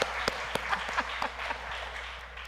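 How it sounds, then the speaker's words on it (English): Audience applause at a congregation gathering for a departing nursery teacher, a steady patter of many hands with a few sharper claps, moderately close and alone. "I would really like for you all to give her a round of applause for her time here."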